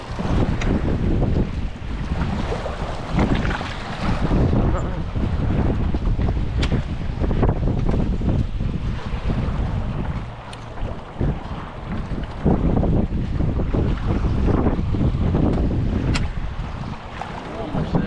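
Wind rushes steadily past a Hobie 16 catamaran sailing near Siesta Key, a loud, continuous broadband roar with gusty buffeting across the microphone and faint water noise beneath.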